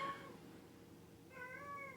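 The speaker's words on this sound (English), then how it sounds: "Why are you meowing at me?" A cat meows twice, a short cry followed by a longer drawn-out one after a pause, fairly faint against quiet room noise.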